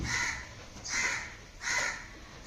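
A crow caws three times, harsh and evenly spaced, at moderate distance over faint background noise.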